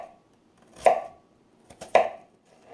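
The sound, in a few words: knife cutting onion into strips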